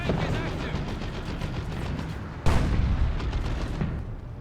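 Shot from a looted tank in Warhammer 40,000: Dawn of War 2: Retribution, a heavy cannon boom over continuous battle gunfire and explosions, loud and close.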